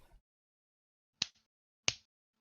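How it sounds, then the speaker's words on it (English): Three sharp hand claps ring out one after another with silent pauses between them, each a crisp, close, fairly quiet slap with no talking alongside. "give a clap for Vernon for upping his class"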